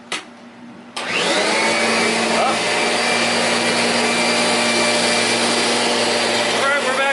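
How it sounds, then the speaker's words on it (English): An 18-year-old blue Kirby Avalir 2 vacuum cleaner starts with a thump after a second of quiet and then runs with a loud, steady, close whine and roar, with faint rubbing as it moves. "Alright, we're vacuuming."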